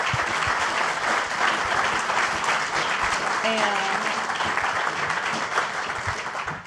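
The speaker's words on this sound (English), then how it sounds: "why don't we just give a round of applause for our panelists" An audience at a rural communities event applauds its panelists, a steady roomful of clapping that holds throughout, with a voice briefly speaking over it.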